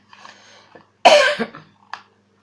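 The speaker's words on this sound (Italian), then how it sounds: "la mia tosse è la mia sigla ufficiale" A single sharp, loud cough bursts out, trailing into a rough rasp, with faint breathy sounds just before and a small catch after.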